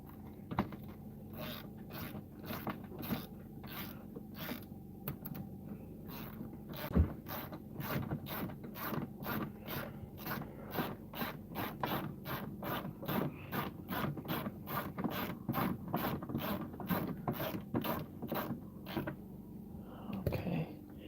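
A ratchet wrench clicks steadily as it turns a bolt loose, a long run of close, regular clicks with a few brief pauses, near and fairly loud, and no one speaking.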